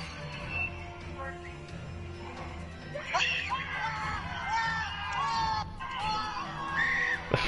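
Screams in the fighting game Injustice: Gods Among Us, a few high shrieking cries rising over a noisy battle-arena background with crowd-like ambience, moderately loud.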